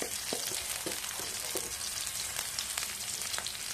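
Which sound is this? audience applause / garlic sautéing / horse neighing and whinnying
garlic sautéing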